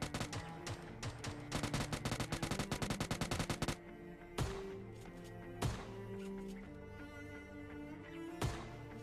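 Gunfire in PUBG Lite: a rapid burst of automatic shots for several seconds, then three separate heavy single shots spaced apart over background music tones, loud and close.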